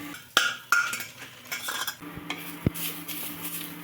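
Ginger stirred with a metal spoon in a cooking pot while a Bengali torka simmers, with sharp clinks of utensil on pot followed by softer scraping and a faint sizzle.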